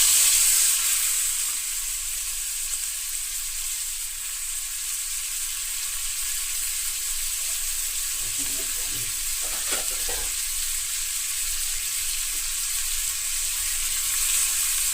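Loud, steady crackling sizzle of food frying on high heat in a pan, with scraping stir strokes around the middle and onion pieces in the mix, carrying on without any talk.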